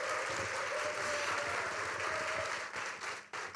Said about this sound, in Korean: 다시 한번 큰 박수로 감사의 마음을 표하겠습니다